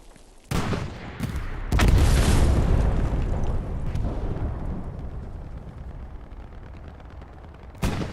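A loud explosion in the game Hell Let Loose destroys a garrison, a sharp blast followed by a long rumbling roar that slowly fades, with further booms near the start and another sharp hit at the end.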